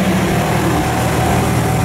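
A KiHa 120 single-car diesel railcar sits at a rural station, its engine giving a steady low rumbling idle that is loud and continuous, with no talk over it.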